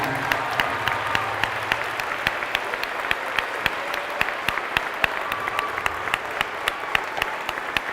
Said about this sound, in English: just one huge round of applause at that big camera right back there for Mr. Bill Reuter